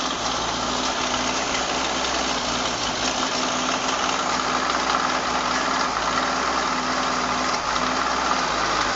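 A 1960 Ford Falcon Ranchero barn find runs steadily with a rough, knocking idle, a close and loud broadband engine drone with a clear low hum throughout, and no voices.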